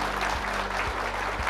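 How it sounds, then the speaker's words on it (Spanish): A crowd at an educational meetup for lead management auditors claps in steady, sustained applause, dense and even throughout the brief moment, with a few soft thumps underneath. "Aplauso para ustedes."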